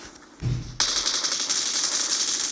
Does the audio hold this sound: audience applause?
no